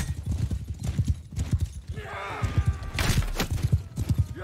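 Horses in Mount & Blade II: Bannerlord clopping steadily at close range, with a brief whinny partway through and game sounds blended in.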